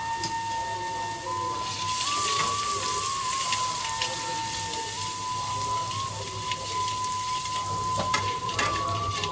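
Ginger paste and turmeric fry in oil in a pan while cooking masoor dal with bitter gourd; a soft, even sizzle crackles under a faint steady tone, with no talking.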